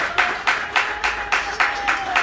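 Audience applause at a wedding celebration, a steady crowd clapping in rhythmic surges at close range, with no talk over it.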